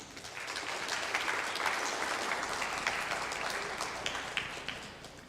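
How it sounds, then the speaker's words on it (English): A church congregation applauds steadily for several seconds, a dense, even wash of clapping filling the room with no talking over it. "That was the first time I've ever been clapped for."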